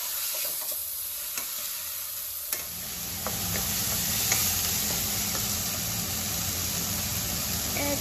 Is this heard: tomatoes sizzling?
yes